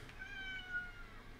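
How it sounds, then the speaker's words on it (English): A cat gives one drawn-out, fairly loud meow close by, heard alone with no talking, over a low background hum. "You really meowing?"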